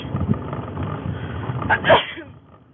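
A single person's sneeze, one sharp burst coming after a stretch of muffled background noise, fairly near and loud, followed by quiet.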